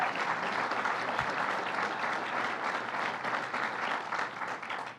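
A large audience gives a sustained, even round of applause for the DOT Commissioner at a transit hub completion event, with steady wash-like clapping from a distance.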